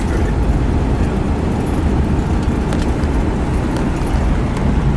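Steady road rumble of a 1954 Mercury Monterey Sun Valley cruising along a country road, a constant low engine and tire drone with wind noise, no talking.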